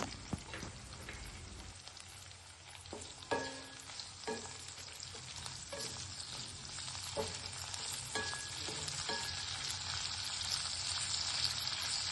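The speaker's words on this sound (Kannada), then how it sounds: "ಒಂದು ದಪ್ಪಾಗಿ ಕಟ್ ಮಾಡಿದ ಈರುಳ್ಳಿ ಹಾಕೋತಿದ್ದೀನಿ" Thickly cut onion frying in a pan for chilli chicken, a steady close sizzle with occasional clinks and scrapes of stirring.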